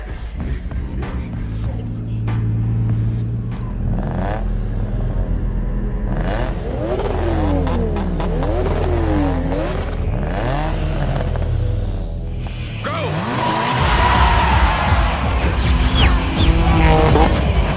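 A Nissan 350Z and a Nissan Silvia drift through a parking garage race, engines revving and rising in pitch with sweeping tire squeals, building to a loud, dense burst of screeching and roaring near the end.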